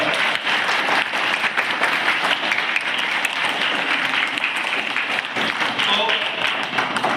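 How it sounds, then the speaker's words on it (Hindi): Students at a yoga session at IDPS Ramgarh burst into loud, dense applause that holds evenly for about seven seconds and fills the room. "तो मैं जोरदार तालियां चाहता हूं, जोरदार"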